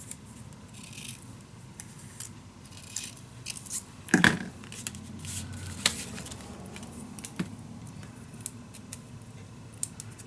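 Scissors cut through paper while making a vintage winter mini album, a few short crisp snips and rustles over a quiet room background, with one sharper cut near the middle.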